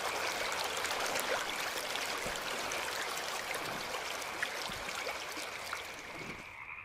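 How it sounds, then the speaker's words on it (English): River water flowing in a video game scene, a steady, even rush of a stream with faint trickling detail, quiet and continuous throughout. "Can I cross the river?"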